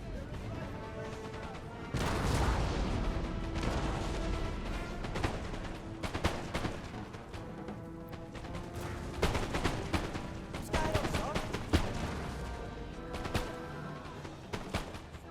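Musket volleys in the Napoleonic battle game Napoleon Total War, ragged bursts of many crackling shots and booming impacts repeating across the battlefield, loud and dense, with a voice talking over parts of it.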